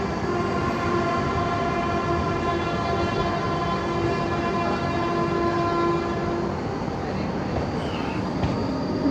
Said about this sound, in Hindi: चलिए मेन लाइन से कोई ट्रेन स्किप कर रही है फरीदाबाद